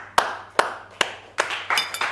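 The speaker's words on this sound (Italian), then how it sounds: "Quanto è triste farsi partire l'applauso da solo" A single person clapping alone, about six slow, sharp, evenly spaced claps, close and dry, with a faint steady hum beneath.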